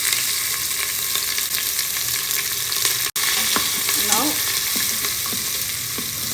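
Sliced onion and slit green chilies stir-frying with a little cinnamon, a constant loud close sizzle with light spatula scrapes scattered through it and a brief cut near the middle, no speech.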